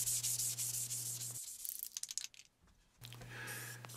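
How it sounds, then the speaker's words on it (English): Sanding a thin plastic table base, a steady close rasping scrub that pauses, returns in short strokes, then resumes over a low hum. "give the entire base a good sanding, both front and back"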